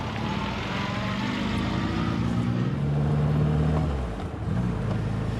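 MG Midget sports car driving and accelerating, its engine drone steady and close with a rising pitch mid-run, then a brief dip near the end as it shifts gear.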